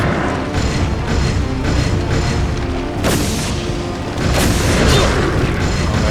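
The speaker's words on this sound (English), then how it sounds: "you just saw me throw 2 flashbangs there and it did nothing" Loud booming blasts from flashbang grenades in Resident Evil 4 (2005), one hitting near 3 seconds and another near 4.3 seconds, over a dense, rumbling game backdrop with no talk.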